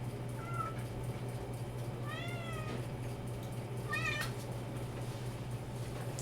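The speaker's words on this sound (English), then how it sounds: "I'm gonna let the cat out of my room" A pet cat meows several times, asking to be let out of a room: three or four plaintive, rising calls spread apart, over a steady low electrical hum indoors.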